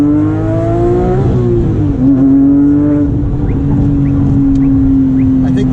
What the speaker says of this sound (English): Now here's a little acceleration once we get to this straightaway here